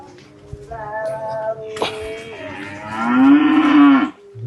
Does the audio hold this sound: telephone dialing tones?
no